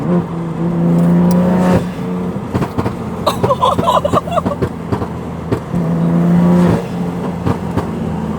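A BMW M3, just repaired after sitting broken, revs hard from idle, and a burst of throttle blips may carry crackling exhaust pops and bangs. The engine drone rises, falls and swells again, loud and close.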